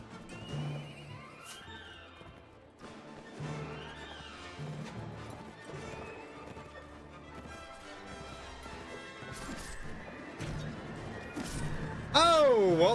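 Horse neighing in the Mount and Blade video game, a sharp loud whinny near the end rising over clip-clopping hooves, clashing battle noise and music, with someone talking throughout.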